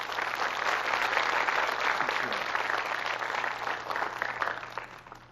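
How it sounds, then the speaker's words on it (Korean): A lecture audience claps after a classical music talk. The applause is a dense, sustained patter that stays full for a few seconds and then slowly thins out. "박수 한번 보내주십시오."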